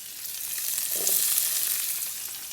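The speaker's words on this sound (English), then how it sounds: "So the next thing we're going to do right now is quickly saute our fresh ingredients." Onions and peppers sauté in a hot pan, giving a steady, close sizzle that holds evenly for a few seconds with no voices.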